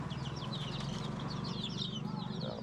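Chickens that have recovered from a snoring respiratory disease cluck and chirp at close range in a farm coop, with steady low background noise throughout.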